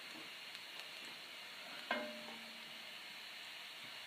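Garlic simmering gently in a pan for dal, a soft steady sizzle throughout, with one brief knock of a utensil about halfway through.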